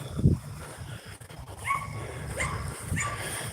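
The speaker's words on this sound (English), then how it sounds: "Dogs are not saying hi, they're just wanting to go." Dogs in a park let out soft whines and short yips a few times, moderately close, over light outdoor background noise and brief rustling.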